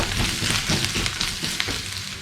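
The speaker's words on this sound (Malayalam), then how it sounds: "ഈ പൊടികളുടെ പച്ചമണം മാറുന്ന വരെ നമുക്കൊന്ന് വഴറ്റിയെടുക്കാം." Ground spice powders, including chili, turmeric and coriander, sauté in a hot pan for a putt and kadala curry. A loud, steady sizzle and crackle carries on throughout, close up and with no voices.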